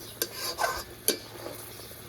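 Egg curry with chopped coriander, slit green chillies and garam masala gently stirred in a pan, soft scraping and a few spoon knocks against the metal over a faint sizzle, close by.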